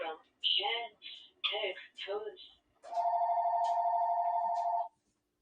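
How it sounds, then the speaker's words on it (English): A mobile phone rings in a home kitchen during baking, a sustained electronic ringtone tone lasting about two seconds, following a few short melodic ringtone bursts, close and clear. "That's my mom's phone."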